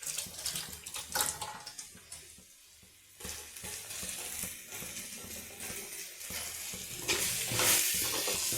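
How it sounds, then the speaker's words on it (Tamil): Food sautés in a hot pan with a steady, close crackling sizzle, broken by spatula stirs and scrapes that swell louder toward the end, with no voices. "நல்லா வதங்கிட்டு இருக்கு."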